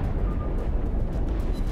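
Naval guns fire aboard the Myogi in World of Warships, a loud, deep, sustained rumbling boom that fills the short moment without any voices.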